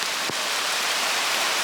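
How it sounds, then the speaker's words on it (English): Steady rain hisses evenly on surfaces outdoors, a dense continuous wash of droplets with one brief faint tap near the start. "It's definitely raining."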